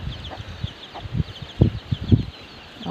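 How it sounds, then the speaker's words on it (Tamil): Chickens pecking and clucking beside a pit of cow dung full of worms on a farm, with soft intermittent clucks and low scratching thuds over a quiet outdoor background. "கோழி சாப்பிடுது."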